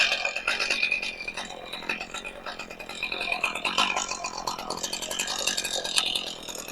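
A neglected chainsaw, freshly restored, runs after sitting unused for a long time, its buzzing engine rising and falling in uneven revs at moderate distance throughout.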